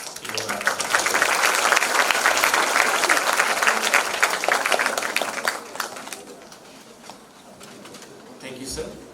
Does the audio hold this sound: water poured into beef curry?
no